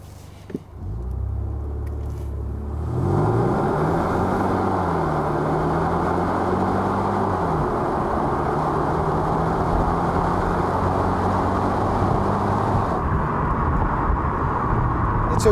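A 2021 Kia Optima with a 1.6-liter turbocharged gasoline engine, front-wheel drive, pulls away hard from near idle, its engine note climbing through the gears into a loud steady roar of road and wind noise.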